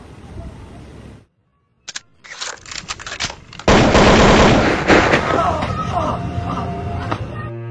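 Gunfire in a short war film about fighting colonial forces: a pause, then scattered shots building into loud sustained bursts of rapid fire mixed with shouting voices.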